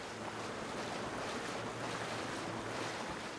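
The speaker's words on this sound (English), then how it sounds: "Unless I just hear water again." Coastal water laps and washes steadily along the shore in the fantasy video game Avowed, a soft continuous surf-like hiss with faint wind, quiet and unbroken.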